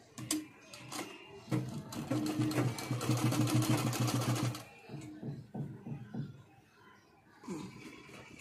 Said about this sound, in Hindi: अब हम गले में डोरी डालने वाला हिस्सा सिल रहे हैं।